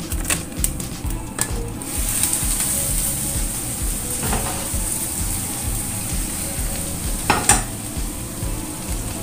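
Egg omelette batter with all-purpose flour frying in a pan, a steady close crackling sizzle throughout with a few sharp clinks of a utensil against the pan.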